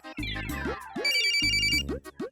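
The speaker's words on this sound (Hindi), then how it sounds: "हमारे बाबूजी का फोन आ गया।" A telephone ringtone plays loudly in a domestic TV-serial scene, a bright repeating electronic melody in two bursts with no talk over it.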